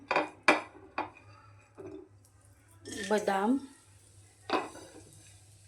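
Almonds and dry fruits dropped into a pan of fried edible gum over low heat, giving a few clinks and a scraping stir of a utensil against the pan. Nearby, someone talks over the cooking.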